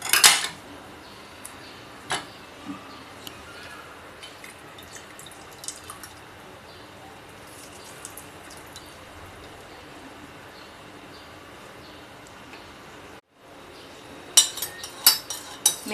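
A spoon stirs a homemade immunity health drink with lemon juice in it. Sparse, faint clinks sit over a quiet steady background, and a louder clatter of strokes comes near the end.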